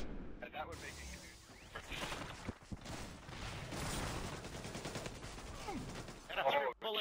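Rapid bursts of gunfire from a shooter video game rattle on almost continuously at moderate loudness, with a voice talking over the shots.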